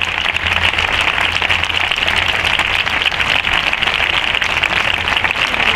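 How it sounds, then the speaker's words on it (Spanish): Steady applause fills the hall after a concert band performance, a dense and loud wash of clapping that holds at an even level throughout with no talking over it. "Un fuerte aplauso, por favor."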